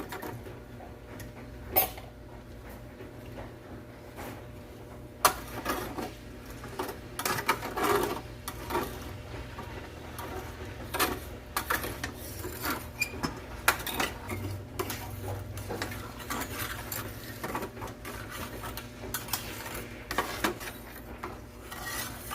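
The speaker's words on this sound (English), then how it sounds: "Getting all the goodness off the bottom of this pan as much as I can" Metal utensil scraping the bottom of a pan after beef stock is poured in, producing repeated short rasping scrapes and clinks in an irregular rhythm, close and moderately loud, with no talking.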